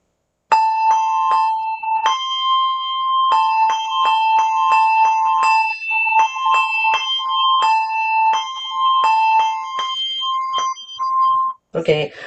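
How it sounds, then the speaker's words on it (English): Two handbells ring back and forth in a steady alternating pattern, clear sustained tones, then a brief clatter at the end. "I'm going to use two bells as my demonstration"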